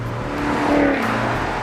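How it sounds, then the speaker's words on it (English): A 2013 Maserati GranTurismo in sport mode gives a continuous, close exhaust drone that swells slightly in the middle of the short stretch. "put it in sport mode so I could hear that exhaust"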